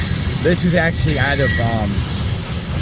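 A loaded ethanol freight train rolls past nearby with a steady loud rumble and repeated wheel squeals, and someone talks over it.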